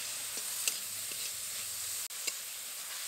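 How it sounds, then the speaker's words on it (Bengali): Fish with kohlrabi, salt, turmeric, cumin and coriander powder sizzles steadily in a hot pan, with a few soft stirring scrapes and taps over the constant frying hiss and no talk. "এবার বেশ কিছুক্ষণ ভালো করে কষাবো।"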